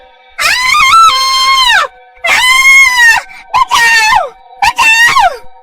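A cartoon witch screams in pain after hot oil from a frying pan splashes onto her body. Four loud, wailing, strained cries come in separate bursts, the first two long and the last two shorter and choppier.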